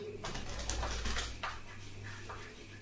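Pigeons coo at night in soft, repeated low calls, loud and close, over a steady low hum.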